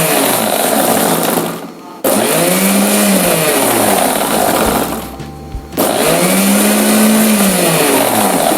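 A kitchen mixer blender whirs in three loud bursts with brief pauses between them, its motor pitch swooping up and down as it blends mayonnaise ingredients with sugar.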